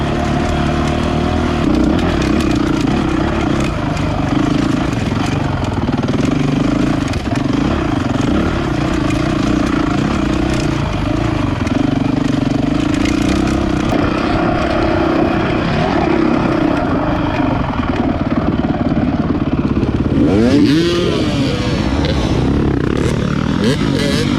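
A Honda CRF450X dirt bike ridden with a flat front tire during the Odessa Desert 100 desert race gives a loud, steady engine drone close by, with constant wind buffeting and a brief rise in revs near the end.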